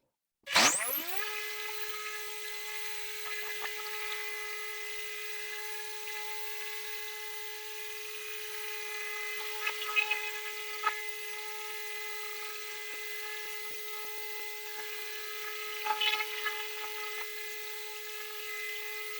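A car polishing machine running with Turtle Wax 1 & Done compound, a steady high-pitched electric whine that starts abruptly and holds constant, with brief rougher surges as the pad works the paint, close and loud.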